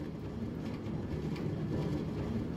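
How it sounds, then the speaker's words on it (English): Minecart train rolling along rails in a video game, a steady continuous low rumble that holds at an even level throughout with no voices over it. "My train is coming back."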